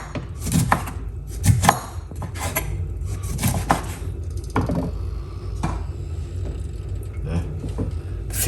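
A knife slicing lemon on a cutting board, a series of close, sharp cuts and taps against the board with some clatter, irregular in rhythm, no talking.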